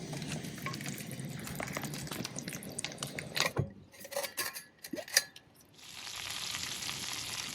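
Butter melting in a pan with parsley and garlic, heat switched off, cooking beside lobster at a truck campsite; a steady soft sizzle and crackle, a few clinks and stirring knocks, then a brighter hissing sizzle toward the end.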